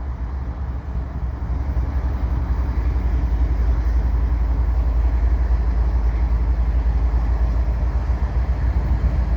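A Canadian Pacific freight train led by a pair of ES44 locomotives at the Dorval ramps in Montreal, a steady, loud low diesel rumble that holds even and close throughout with no voices.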